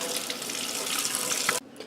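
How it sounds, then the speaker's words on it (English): Tap water runs steadily into a sink while a makeup brush is rinsed and squeezed, a close hissing splash that cuts off abruptly near the end. "rinse, squeeze, and you want to make sure you get all of that till the water runs clear"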